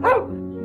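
A single sharp dog bark, close and loud, with a brief tonal whine trailing after it over a steady low background hum in a children's bedtime story.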